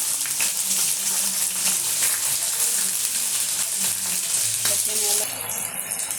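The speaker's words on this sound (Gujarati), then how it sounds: "હવે આપણે આ બટેકાની ચીપ્સ ઉમેરીશું।" Potato chips fry with cumin and spices in a pan for a vegetable pulao, a loud, close, continuous hissing sizzle with occasional scraping stirs and faint tonal hum beneath.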